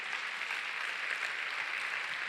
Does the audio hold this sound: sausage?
no